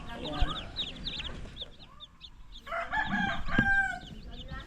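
Chickens and small chicks, some hatched the day before, give high chirps and clucks with a rooster-like call. A person talks softly over the birds in a close farm setting.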